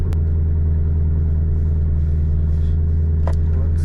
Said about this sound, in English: It is an AJ V8.